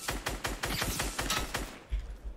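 Rapid bursts of gunfire from the Fortnite video game crack out in a fast, loud volley of repeated shots, with a short pause before a few final blasts and no talking.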